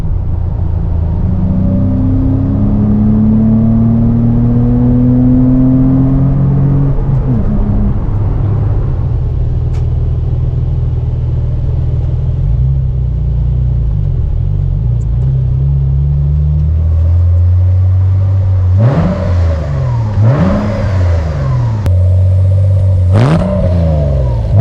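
A 1997 Porsche Boxster's 2.5-liter flat-six revs loudly up and down, with a rumbling idle and sharp throttle blips toward the end, heard close with no talking.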